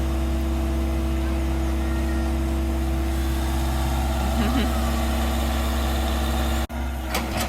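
A backhoe engine idles with a steady low rumble through most of the stretch, with a brief dropout near the end followed by a couple of sharp knocks as the idle resumes.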